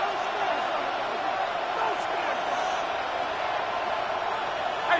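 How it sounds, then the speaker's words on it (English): Stadium crowd roar in a Madden football video game fills the clip as a steady, dense wash, with faint thuds here and there and no clear voices on top. "this crowd making it hard to hear"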